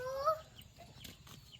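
Kadaknath chickens and chicks give a short high cluck and peep near the start, followed by faint scratching and rustling movement around the birds.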